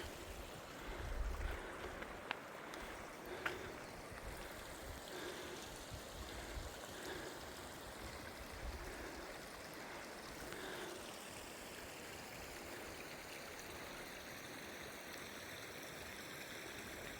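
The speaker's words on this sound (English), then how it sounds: "That's the River Fallock." The River Falloch on the West Highland Way flows steadily on a cold day, a continuous broadband rush and gurgle of moving water, distant and faint, unbroken across the whole stretch.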